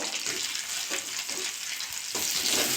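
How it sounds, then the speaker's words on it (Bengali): Sliced onions hiss and sizzle in hot oil in a home kitchen pan, a steady bright crackle with faint stirring scrapes and no voices. "ওই তেলে আমি পেঁয়াজ দিয়ে দেবো"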